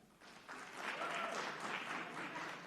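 A crowd at a rally at Norfolk State claps on cue, the applause rising after a brief quiet start into a soft, steady patter of many hands, somewhat distant and low in level.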